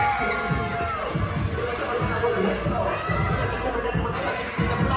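A wrestling crowd at a pro wrestling show in Oelwein roars and cheers steadily, with shouts and whoops rising throughout, loud and dense, with voices mixed in.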